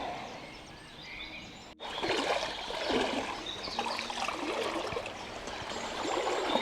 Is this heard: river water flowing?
yes